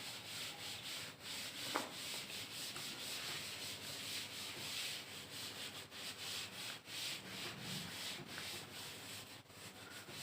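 Steady scrubbing of a duster rubbing chalk writing off a classroom blackboard, a continuous dry rasp running close and fairly even through the whole stretch, with no talk over it.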